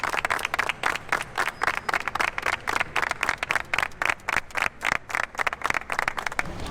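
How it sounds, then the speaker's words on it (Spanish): An audience claps for futsal legend William Estupiñán, a steady round of applause with rhythmic, fairly even clapping that carries on for several seconds at moderate volume. "quiero que le regalemos a William un aplauso bien grandote"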